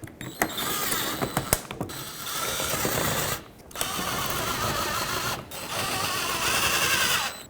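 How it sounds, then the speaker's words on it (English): A ratchet tightens screws on the radiator shields of a 2007-2009 Saturn Aura, with bursts of rapid clicking and mechanical whirring close by, broken by brief pauses. "put back all the screws that were holding all of your shields in place"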